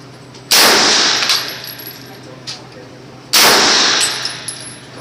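Rifle shots at an outdoor shooting range, two loud sharp cracks a few seconds apart, each followed by a ringing decay.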